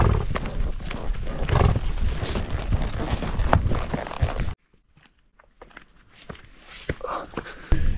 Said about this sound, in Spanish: Esta es la mejor experiencia de campo, andar a caballo.